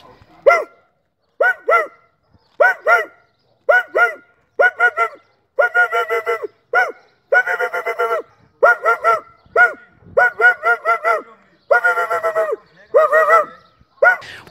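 A man imitates a mongrel dog, voicing about a dozen loud, close bursts of barking in quick double and triple yaps, evenly paced with short pauses between groups.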